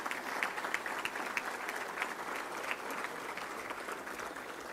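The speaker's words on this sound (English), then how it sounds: "Give a round of applause to them and all of our great sponsors here at the Touchdown Club." Applause from a luncheon crowd at a Touchdown Club gathering in Little Rock, a dense, continuous patter of many hands that holds steady for several seconds without anyone speaking.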